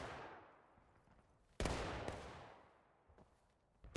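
Musket fire in the Civil War video game War of Rights, with sharp distant shots ringing out singly and in a ragged cluster over a rolling echo, fairly faint overall.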